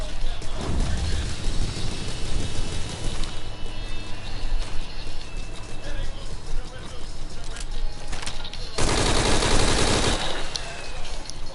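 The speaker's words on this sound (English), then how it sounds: "We're hearing gunfire." Video game gunfire rattles in rapid automatic bursts and scattered shots under a dense, noisy mix, with loud sustained blasts near the end and people talking over it.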